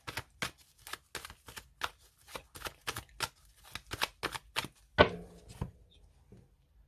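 Tarot cards are shuffled in quick rhythmic bursts, a dozen or so crisp riffling slaps close by, ending with a sharper tap and a brief rustle before quiet.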